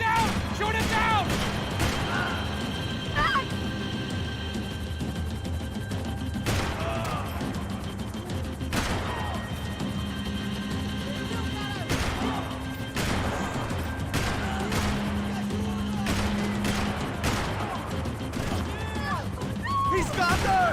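Gunfire in the Max Payne 3 video game, with repeated sharp shots and crashes scattered through a dense, loud action soundtrack while characters shout over it.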